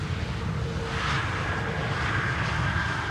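A Scandinavian Airlines SAS aircraft arrives at Schiphol, a steady distant airliner rumble and whine holding evenly throughout with no talk.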